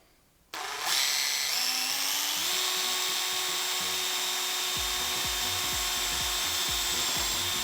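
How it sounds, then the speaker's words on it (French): A power drill boring holes for pop rivets starts up with a sharp jump into a loud, steady high whine. It keeps running without a break, while a rhythmic, lower grinding pulse comes in during the later seconds. "Donc on est prêt à percer, allons-y."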